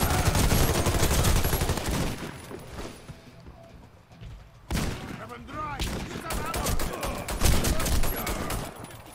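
Gunfire in the Warface video game on Nintendo Switch: loud bursts of automatic fire, a brief lull, then more rapid shots and clatter, with some voice underneath.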